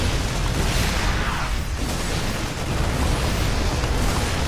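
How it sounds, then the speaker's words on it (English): Dense, continuous rumbling explosions fill the whole stretch as buildings are destroyed during a Terran versus Terran StarCraft II match, with bursts and booms blending into one loud, sustained roar and no voices over it. "I'm blowing up production facilities here."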